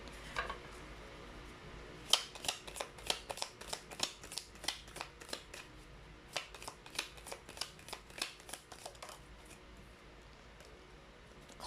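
Tarot cards are shuffled and pulled in a rapid run of crisp, close riffling flicks, quiet and unaccompanied, trailing off into soft handling.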